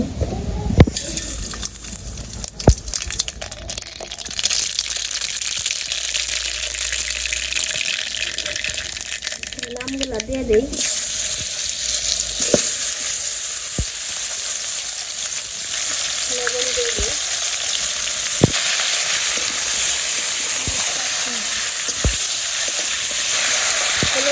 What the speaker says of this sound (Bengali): তো আমি কড়াইতে তেল দিয়ে দিছি তেলটা গরম হয়ে গেছে সরিষা দিয়ে দিব